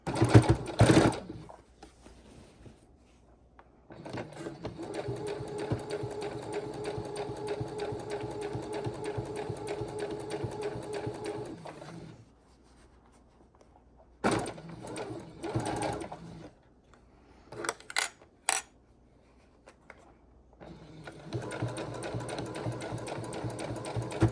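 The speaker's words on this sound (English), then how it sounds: "and then we'll sew some more on" A sewing machine stitches binding onto fabric in steady whirring runs, stopping and restarting several times with quiet gaps and brief clicks between bursts.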